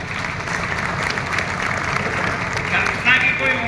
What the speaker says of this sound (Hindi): आप सब लोग उसकी ताली बजाकर उसका अभिनंदन करो